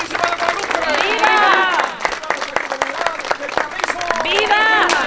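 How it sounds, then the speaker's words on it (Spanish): A crowd at a horseback cabalgata at Rancho el Carrizo de Fuentes claps for the Virgin of Guadalupe, with loud shouting voices carrying over the steady applause. "vamos a darle un fuerte aplauso a nuestra Madre Santísima"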